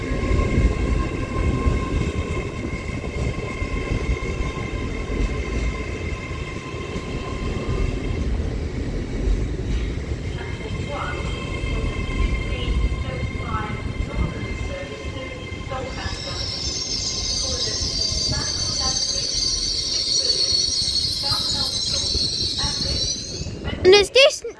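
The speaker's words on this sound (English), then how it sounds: "as this LNER Zoomer arrives into Wakefield Westgate now" An LNER Class 801 Azuma electric train pulls into Wakefield Westgate station on the East Coast Main Line, a steady low rumble and rising brake squeal building near the close over platform ambience.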